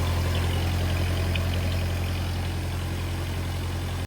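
A Ford 8N tractor engine idles steadily just after starting, a close, loud, low rumble with a continuous even chug that runs alone until it cuts off abruptly at the end.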